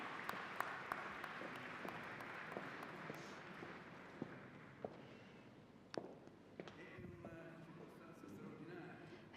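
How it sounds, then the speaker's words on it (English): Audience applause for the artist Alberto Burri at a solemn centenary conference, a broad wash of clapping held at moderate level with scattered sharper claps, heard from across the room with faint talk around it. "I think we should make an applause for Burri."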